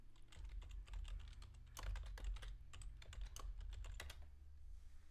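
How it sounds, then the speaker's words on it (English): Loud, close keystrokes on a computer keyboard form a quick, uneven burst of sharp clicks, each ringing out briefly. No voices are heard. "Yep, on the keyboard tab key."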